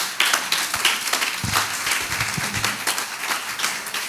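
A church congregation applauds during a Spanish-language sermon, a dense, steady burst of hand claps filling the room, with some louder individual claps and faint voices mixed in.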